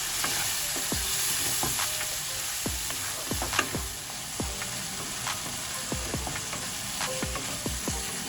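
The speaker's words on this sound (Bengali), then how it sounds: "সামান্য একটু জল দিয়ে এবার মশলাটা আমি ভালো করে কষিয়ে নেব।" Kashmiri chili powder masala with a pinch of sugar and a splash of water sizzles in a pan, a continuous frying hiss punctuated by regular, close clicks and knocks of a spoon stirring against the metal.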